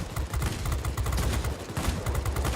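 A British Hurricane fighter's cannons fire in World of Warplanes, a fast continuous stream of heavy thudding shots, close and loud across the whole stretch with no pauses.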